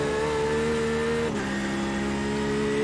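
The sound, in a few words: Porsche GTE race car driving a lap of Le Mans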